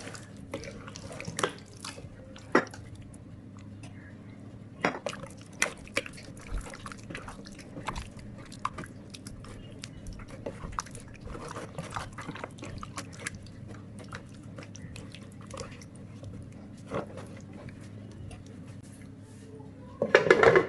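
Chicken tandoori marinade stirred with about half a cup of oil added, giving soft wet squelching and scraping in a bowl with scattered sharp clicks of a spoon against the dish, fairly quiet and steady throughout, with a louder burst at the very end.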